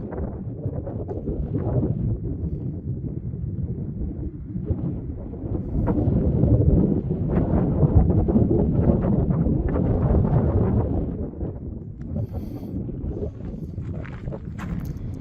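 Gusty wind on a mountain ridgeline in Nevada's Rainbow Mountain Wilderness buffets and rumbles against the microphone, swelling stronger in the middle before easing off, with scattered crunchy footstep-like noises.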